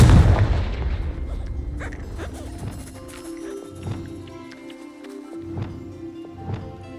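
A Confringo spell explosion in the Hogwarts game opens with a loud, booming blast that decays quickly, followed by a string of softer, scattered thuds and footfall-like knocks.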